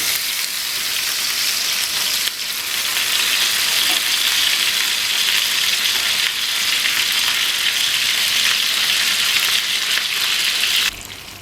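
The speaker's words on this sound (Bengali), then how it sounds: "এবার আমি এগুলো উল্টিয়ে অন্য পিসটা ভেজে নেব" Fish pieces fry in oil in a pan, a steady loud broadband sizzle with crackle that runs continuously and drops off slightly at the very end, with no talking.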